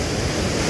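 Clear mountain stream water rushes through a Himalayan village gully, a loud, dense, steady broadband wash heard up close with no voices.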